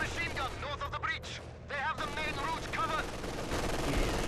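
Machine gun fire in Company of Heroes 2 at the Stalingrad rail station chatters amid a dense battle din, with sustained rattling bursts and shouting voices mixed throughout, growing louder toward the end.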